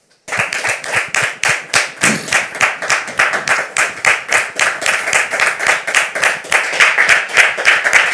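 An audience claps in welcome for a guest at a French-language gathering, rhythmic and fairly loud, sometimes falling into unison beats and building slightly toward the end, with no talk over it.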